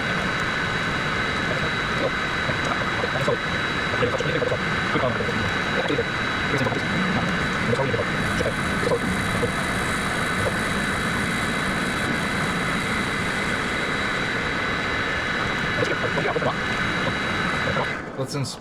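A Vevor MX4 lathe spins at 600 RPM while a carbide tool cuts across the face of a paperweight, giving a steady, continuous machine hum and whine that stays loud and even throughout before cutting off at the end.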